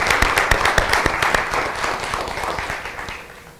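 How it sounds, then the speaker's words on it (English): A school committee meeting audience applauds students, opening with a few sharp, close individual claps and settling into moderate, steady clapping that gradually thins and fades. "A round of applause, please, for Nathaniel and all the students."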